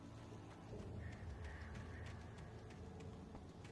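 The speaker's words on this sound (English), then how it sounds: "I hear the birds again." Crows caw faintly and repeatedly in the Alan Wake video game, their calls sitting low beneath a steady wash of ambient background noise.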